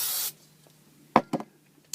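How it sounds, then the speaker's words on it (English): Spray mount adhesive hisses from an aerosol can in one short burst at the start, followed by a few faint rubbing and handling sounds on a dollhouse model. "just put some spray mount here"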